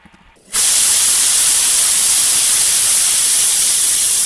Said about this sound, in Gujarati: ચાર સીટી થઈ ગઈ છે આપણે ગેસને બંધ કરી દઈએ